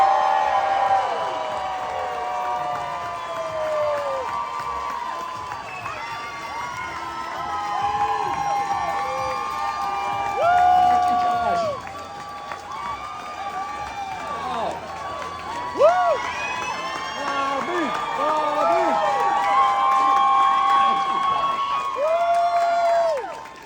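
A crowd at a campaign speech in Annapolis, Maryland cheers, whoops and applauds the introduction of a presidential candidate, a loud, sustained roar with shouts rising and falling throughout.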